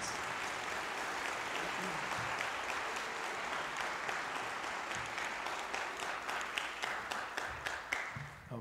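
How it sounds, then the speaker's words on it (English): An audience at a high school winter band concert applauds the symphonic band, a dense, continuous wash of clapping from a hall-sized crowd that thins out toward the end. "How about one more big round of applause for the symphonic band?"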